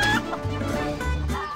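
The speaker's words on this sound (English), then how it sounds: "Kill this chicken, get some free food." Chickens clucking in the Predator Simulator video game, a run of short overlapping clucks over a busy game soundscape, fairly loud and close.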